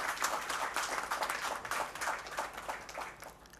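Faint, somewhat distant applause from an audience at an inauguration event, with clapping that swells and ebbs in quick waves.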